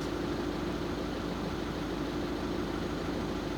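A 1.6 TDI diesel car engine idles steadily with a constant low rumble and even, unbroken loudness throughout, with no voices over it.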